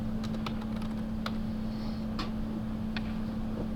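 Keys being typed on a computer keyboard in sparse, irregular clicks over a steady low electrical hum, quiet and close, with no talking.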